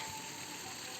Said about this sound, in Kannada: ಯಾವ ಥರ ಒಂದು ದೋಣಿ ಮೋಟ್ರ್ ಮಾಡಿದ್ದಾರೆ,